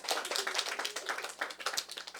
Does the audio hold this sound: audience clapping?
yes